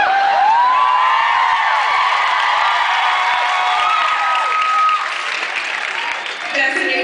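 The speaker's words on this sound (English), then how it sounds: "That's a new big applause of James Bond." A convention audience at a Supernatural fan event in Las Vegas breaks into loud, sustained applause with cheers and whoops. The full clapping fills the room without a break and eases off slightly near the end.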